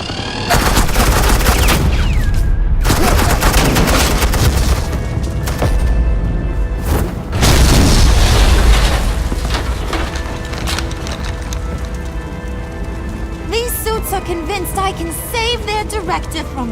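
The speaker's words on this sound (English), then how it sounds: "Suppressing fire." Suppressing gunfire erupts in a Batman video game, with heavy bursts of shots and booming impacts in loud clusters, pausing briefly before another barrage, then fading under game dialogue and music.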